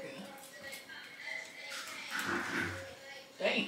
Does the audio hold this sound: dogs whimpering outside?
yes